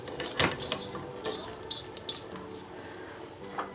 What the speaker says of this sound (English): I have some blackberry, raspberries, and blueberries. I'm just going to place them inside my pot.